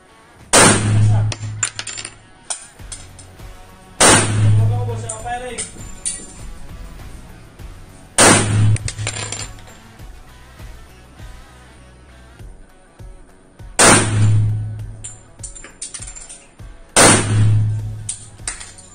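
Five loud, sharp gunshots at an indoor firing range, each fired alone a few seconds apart with a booming echo that trails off between shots.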